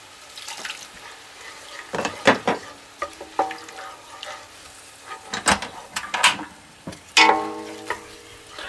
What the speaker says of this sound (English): we're going to add in 3/4 cup of orange juice